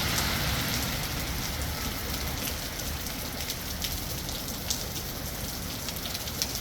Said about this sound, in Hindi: तो धड़ाम धुड़ुम बारिश हो रही है यहाँ।